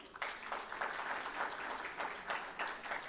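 Audience applause fills a conference hall after a keynote address, a dense, steady wash of many hands clapping at moderate loudness throughout, with no talking over it.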